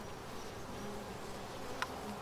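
Honey bees hum from an open hive during a frame-by-frame inspection, a steady low drone with no speech, and one brief sharper tick near the end.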